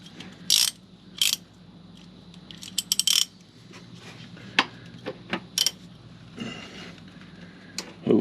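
A ratchet loosens the 17 mm oil drain plug on a 2008 Mercedes GL320 CDI turbodiesel, giving close, scattered bursts of sharp clicks and short metallic ticks with quiet gaps between them and no talking.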